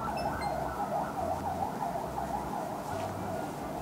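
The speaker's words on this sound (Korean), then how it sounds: "앰뷸런스가 지나가고 나면 이야기를 해보도록 할게요." An ambulance siren wails past outdoors, its steady rising-and-falling tone holding loud and continuous for several seconds with no one speaking.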